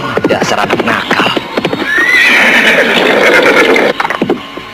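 A horse whinnies loudly in a long, shrill call, with a few soft hoof clops and brief voices before and after, heard outdoors in open grassland.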